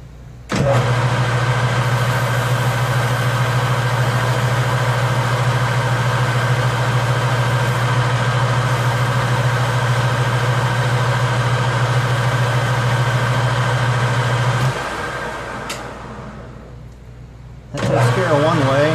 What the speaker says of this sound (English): I found if you run the lathe in reverse, it takes care of the other edge.